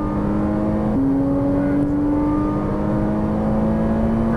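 Ferrari 458 Italia accelerating on a race track, a steady engine whine climbing slowly in pitch after a quick gear change, heard continuously from close inside the car.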